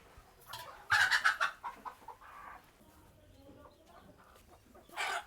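Chickens in a low-cost poultry shed cluck in a loud burst near the start, then softer scattered clucks follow, with another short flurry at the end; no talking.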